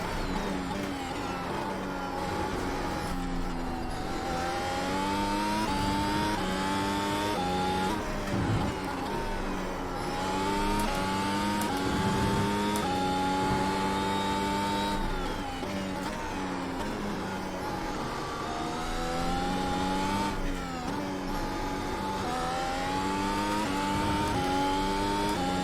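A video-game F1 car with DRS open races flat out around the Indianapolis circuit, its engine screaming steadily and rising and dropping in pitch through gear changes for the whole stretch, loud and alone.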